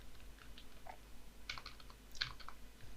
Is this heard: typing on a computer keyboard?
yes